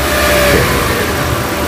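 A 2017 Toyota Avanza G with a 1300 cc VVT-i engine and manual gearbox revs at close range, a loud, steady mid-pitched engine drone that swells slightly and then settles, with no voices.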